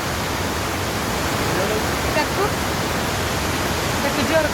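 Heavy rush of water near Vazhachal waterfall in Kerala, a loud continuous broadband roar close at hand, with faint voices barely showing through it.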